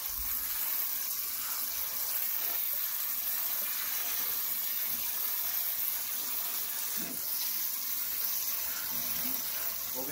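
Cold tap water running into a pot of cooked noodles for pancit Malabon, a steady broad splashing hiss lasting the whole stretch with faint kitchen clatter.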